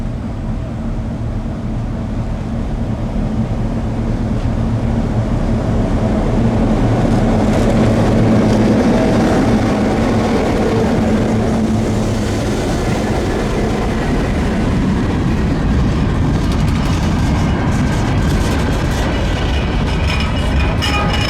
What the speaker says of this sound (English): GP10 number 4603, one buffer car, and one gondola full of nuclear waste made for quite the train as they all passed